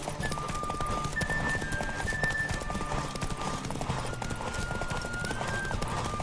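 Horse hooves clip-clop at a steady gallop rhythm in The Witcher 3, loud and continuous throughout, with faint tonal game sounds layered above.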